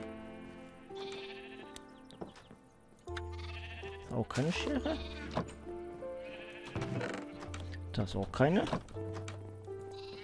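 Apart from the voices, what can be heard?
sheep bleating in video game Minecraft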